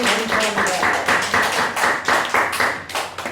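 A church congregation at a Sunday thanksgiving service claps together in a quick, steady rhythm, loud and close, the pulses repeating evenly over a few seconds.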